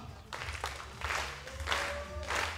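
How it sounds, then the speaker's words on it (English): An audience applauds and cheers during a 10 m prone rifle shooting final, bursts of clapping and crowd noise rising and falling under a commentator's voice. "So the audience is clapping and making noise."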